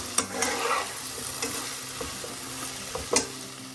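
Potato and okra stir-fried in hot oil: a steady sizzle with scattered scraping clicks of a spatula against the pan, close and alone.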